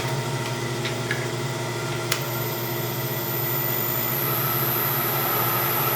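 Bridgeport milling machine spinning up to high RPM on a phase converter: a steady low mechanical hum with a faint whine that rises and holds near the end, with a few light ticks early on.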